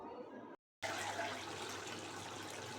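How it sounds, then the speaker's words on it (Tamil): Water poured into a cooking pot of biryani gives a brief splash, a short silent gap, then a steady liquid rush of filling, fairly quiet and close. "நம்ம தண்ணி சேர்த்துக்கலாம்."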